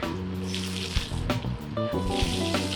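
Water rushes and splashes steadily as a vehicle rides through a flooded road, with a continuous watery hiss and a few brief bumps, no talking.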